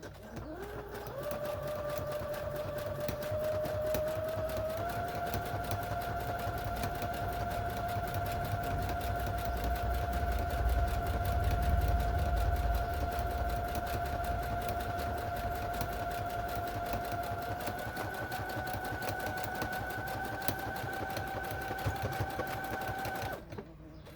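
A sewing machine runs a steady zigzag stitch through cork fabric for a zipper pouch, a continuous close mechanical whir with a constant hum and no speech.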